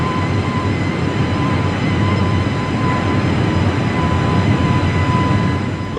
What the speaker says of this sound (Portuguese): o voo 257 decola do aeroporto de Calcutá por volta das 11 horas e 54 minutos